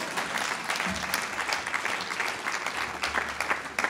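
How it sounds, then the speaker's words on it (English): A seated audience at an Economic Club presentation by a Commerce under secretary breaks into sustained applause, a moderately loud, continuous patter of many hands clapping with no talk over it. "Yeah, clap a little bit."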